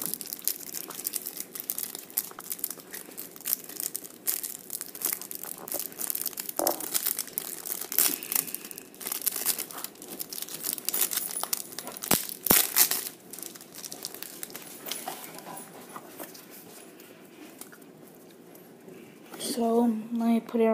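Plastic packaging for a Yu-Gi-Oh Realm of the Sea Emperor structure deck crinkles and tears continuously up close, dense crackling rustles running throughout, with brief louder snaps and a burst of handling near the end.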